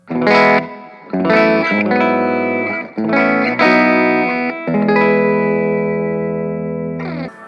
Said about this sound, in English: we'll switch back to the speaker and just play a bit more with that reverb. So we'll do the clean reverb first.